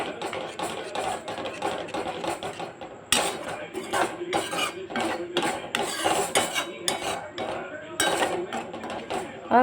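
A spoon scrapes and clinks repeatedly against a cooking pan while yogurt-based gravy for besan gatte curry is mixed over medium heat, close and irregular, with brief soft kitchen noises between strokes.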